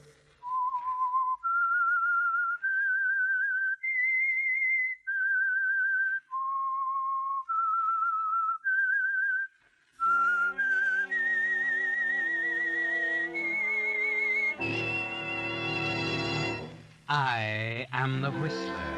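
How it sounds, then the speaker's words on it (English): A lone whistler performs the eerie theme of The Whistler, a 1947 CBS old-time radio mystery. A clear whistled melody of sustained notes plays first, then an orchestra joins in and swells toward the end. "That whistle is your signal for the Signal Oil Program"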